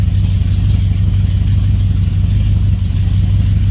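A truck engine with newly fitted SPAL electric cooling fans idles steadily up close, a loud, even low rumble with constant fan-like hiss over it and no talking.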